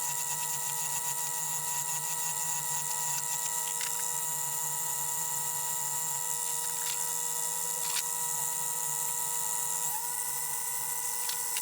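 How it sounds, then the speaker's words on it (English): A metal lathe spinning a stainless steel ring as abrasives polish it: a steady, continuous high whine with a constant motor hum underneath and occasional faint scraping touches, with no talking. "I've got a really nice round over I'm starting to polish with abrasives"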